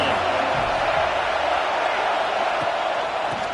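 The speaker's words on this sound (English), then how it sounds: "This crowd bringing the energy and noise early." A stadium crowd in a college football video game gives a steady, loud roar that stays even and continuous throughout, with faint whoops and cheers mixed in.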